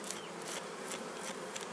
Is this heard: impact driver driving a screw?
no